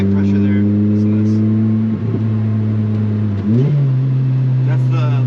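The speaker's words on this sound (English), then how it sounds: "That's the Lorini exhaust upgrade in the back." A supercharged Lotus Exige 240 S with a Lorini exhaust upgrade holds a steady droning note from inside the cabin, with two brief shifts where the engine pitch drops and climbs again.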